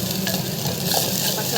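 Onion paste for kuzhambu sizzling and frying in a pan while being stirred, a steady close crackle with no talking.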